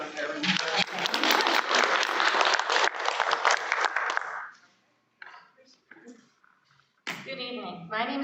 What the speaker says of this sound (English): we can clap for each candidate as they've done their introduction